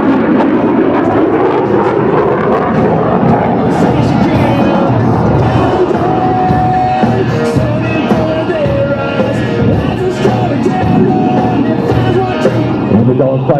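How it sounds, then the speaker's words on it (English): An F-16 Viper fighter jet roars past at a coastal air show during aileron rolls, a loud sustained rushing engine noise with shifting whine and a crowd faintly audible beneath. "He'll accelerate rapidly and snap the Viper through 3 aileron rolls, demonstrating its remarkable maneuverability."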